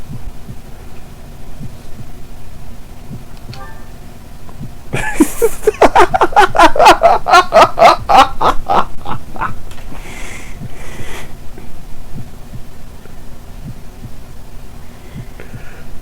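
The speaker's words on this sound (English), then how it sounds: "Why is there a big heartbeat happening in my ear right now?" A loud, steady heartbeat sound effect from the video game Fire Emblem: Three Houses, repeating in a rapid throbbing pulse through most of the clip, with a low hum underneath.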